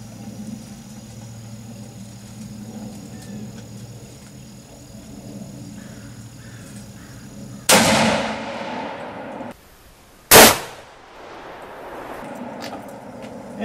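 Two sharp, loud rifle reports from a Ruger M77 Hawkeye in .25-06 fired at steel targets outdoors, each a sudden crack with a short fading tail, spaced a few seconds apart over a low background hum.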